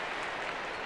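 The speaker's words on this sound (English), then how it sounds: "the sounds of the crowd" A football stadium crowd at a 1992 Australian Rules match between Adelaide Crows and Footscray Bulldogs roars in a dense, continuous wash of noise, loud and steady for a brief moment.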